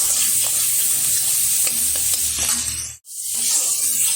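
Shrimp frying in hot oil with black cumin and turmeric, heard as a loud, steady close sizzle with light stirring clicks, briefly cutting out near the end before resuming, no speech.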